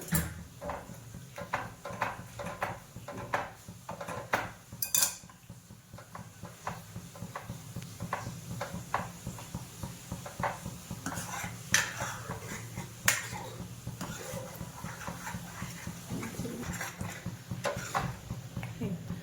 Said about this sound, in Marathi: सारखं सतत हलवत राहायचं याला.